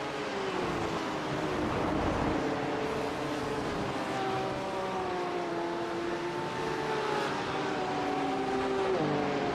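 Race cars, a BMW among them, lapping at Spa in a four-hour race, several engines droning and shifting pitch together at a steady loud level, no voices.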